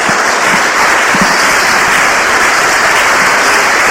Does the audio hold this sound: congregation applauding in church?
yes